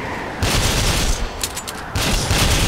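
Gunfire in the online shooter Ghost Recon Phantoms, loud continuous bursts of automatic fire filling the whole stretch with only brief gaps, close and harsh.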